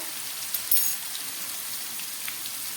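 Cut potatoes fry in hot oil with turmeric, giving a faint, even, rain-like hiss that carries on steadily with tiny pops.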